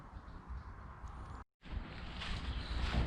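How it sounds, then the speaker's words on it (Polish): Wind buffeting a microphone in a continuous rough rumble, briefly cutting out, then returning stronger and gustier. "teraz wiatr się zrobił"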